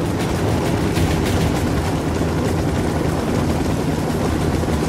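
An Apache attack helicopter in the Ghost Recon video game roars loudly and steadily overhead with a dense rotor throb that continues throughout, and a faint burst of gunfire may be mixed in.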